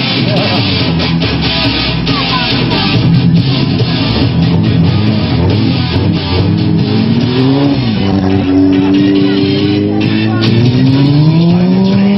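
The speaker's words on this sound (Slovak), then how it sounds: "On sa totiž nechá ťahať za idúcim autom." Car driving at a stunt show in Párkány (Štúrovo), dragging a stuntman behind it on the ground, with a steady, loud engine drone and shifting revs throughout and a crowd or voices mixed in.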